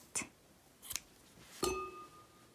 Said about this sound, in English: pull tight and cut the yarn